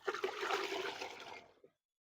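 Diluted calotropis fertilizer solution is poured back and forth to mix it, a brief close splashing gush of liquid that cuts off abruptly into silence.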